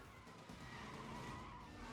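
A Nissan GT-R engine in Need for Speed Most Wanted roars steadily while tires skid and squeal, loud and continuous with a synthetic, game-like quality.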